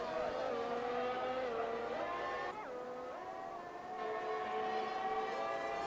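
Engine of a Formula 1 car on a flying lap at the 2000 Japanese Grand Prix in a racing video game, a loud high-pitched wail that rises steadily, drops sharply with a downshift, then climbs again with constant revs.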